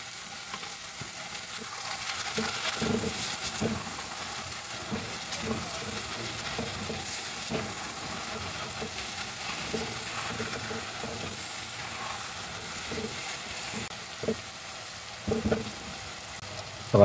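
Chicken tinola with bottle gourd cooks in a pot, with a soft continuous simmer and sizzle and scattered stirring clinks as fish sauce goes in, steady and moderately quiet throughout.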